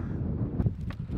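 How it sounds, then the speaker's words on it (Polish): Strong wind buffets the microphone at a windy clifftop campsite overlooking the sea, a close, rough rushing noise that continues throughout with no speech. "Wiatr wieje oczywiście strasznie"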